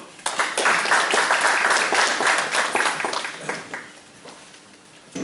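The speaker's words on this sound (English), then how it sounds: "A round of applause, please." A conference audience in London claps steadily and fairly loudly for several seconds, then the applause thins out and fades.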